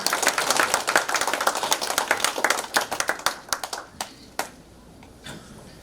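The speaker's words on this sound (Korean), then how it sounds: "박수 부탁드리겠습니다" Audience applause for a speaker being welcomed to the stage at a Korean talk event. It starts dense and loud, then thins into scattered individual claps and fades out over about six seconds.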